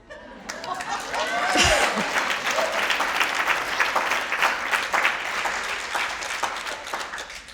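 Loud sustained applause from a large conference audience after a keynote speech, with a few cheers and laughs mixed in, lasting throughout.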